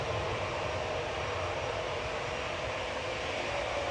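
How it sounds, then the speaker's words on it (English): An EasyJet airliner bound for Malta taking off down the runway at Manchester Airport, heard from afar as a steady, broad jet-engine roar that holds level throughout with no voices. "So we've got the EasyJet 2273 to Malta just departing in the background there"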